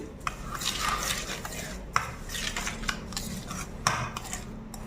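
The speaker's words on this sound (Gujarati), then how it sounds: "હવે આને મિક્સ કરી લઈએ" A spoon scrapes and clinks steadily against a bowl as salt is stirred into sweet mango pickle, with a few sharper knocks of metal on the rim.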